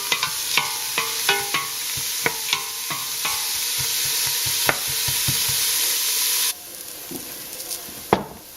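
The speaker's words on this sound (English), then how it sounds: "we're going to saute those until they're translucent" Celery and other vegetables sauteing in a pan for veggie soup, a steady loud sizzle broken by repeated scraping stirs, the hiss dropping suddenly near the end, no talking.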